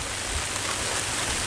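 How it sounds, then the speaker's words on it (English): Steady rain falling outdoors after a thunderstorm, with wind picking up: a continuous broadband hiss with no pauses or voices. "Now it's just raining. And the wind's picking up."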